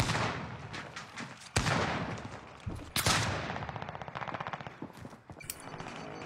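Dense, loud gunfire from a video game on the Fortune's Keep map: rapid machine-gun bursts with sharp single shots and booming blasts overlapping throughout, close and continuous.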